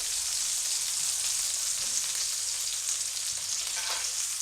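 Chicken kebabs sizzle steadily in hot frying oil, a dense, even crackle held at close range for the whole stretch with small pops near the end.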